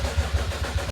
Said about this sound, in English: the car did give us a first attempt at starting